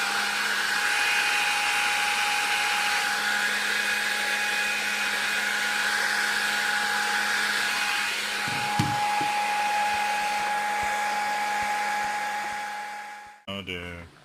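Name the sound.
air blower drying a telescope mirror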